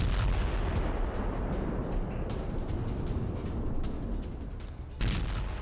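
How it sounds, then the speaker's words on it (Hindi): Repeated blasts and heavy booms from explosions in Belgorod, Russia, including the Shebekino area where fire broke out, rumbling continuously at a loud, fairly distant level with a sharper burst near the end. "रूसी इलाके बेलगोरोद में कई जगहों पर धमाके हुए हैं"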